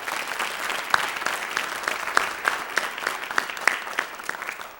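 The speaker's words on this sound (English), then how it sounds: "Another round of applause for our Township Supervisor" An audience claps for the Township Supervisor at the Canton State of the Township event in The Village Theater, a brisk, even applause with distinct individual claps standing out against the crowd, sustained throughout without talk.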